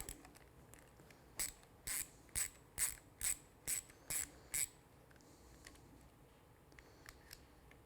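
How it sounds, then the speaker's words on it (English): A T30 Torx bit on a ratchet backs out a screw near the master cylinder reservoir of a Triumph Street motorcycle, producing eight crisp, evenly spaced ratchet clicks, close and clear over a quiet background. "using your T30 Torx bit, you take this screw off"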